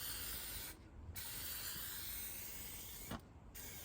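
Aerosol spray paint can hissing steadily as it coats a Subaru Impreza and Honda Civic out in the street, a continuous broadband spray with two short pauses where the nozzle is released.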